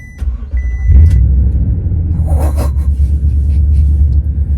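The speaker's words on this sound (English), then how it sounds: "it's time to get into the Tundra, start her up, that V8" A Toyota Tundra V8 pickup truck starting up, a brief starter whir catching into a deep, loud, steady idle rumble that fills the rest of the clip, with a faint chime before it.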